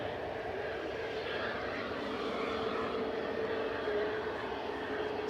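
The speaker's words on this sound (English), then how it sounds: "So the loitering EasyJet on Victor Delta is powering up." An EasyJet airliner loitering on a taxiway at Manchester Airport powers up its engines, a steady broad roar with a faint rising whine holding evenly throughout.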